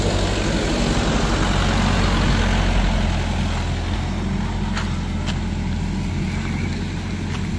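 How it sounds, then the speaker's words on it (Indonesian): Engine of a Hino truck with failed brakes running after crashing into an electric pole on an uphill road, a steady low rumble under wind, with no talk. "Ini truk Hino Lohan yang menabrak tiang listrik ya bosku."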